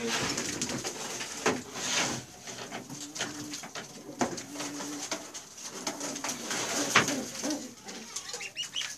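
Pigeons coo repeatedly in a loft, the low throaty calls rising and falling among rustling and occasional wing flaps, with other birds chirping in the background and no talk.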